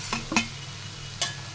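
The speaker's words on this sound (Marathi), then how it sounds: "कोळंबी घातल्यानंतर आपण यामध्ये कोळंबी आहे ना आपल्या मसाल्यामध्ये छान अशी मिक्स करून घ्यायची आहे।" Prawns are stirred into sizzling masala in a pan: two quick scraping strokes, then a third a moment later, over a soft, steady frying hiss.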